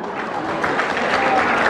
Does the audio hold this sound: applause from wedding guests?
yes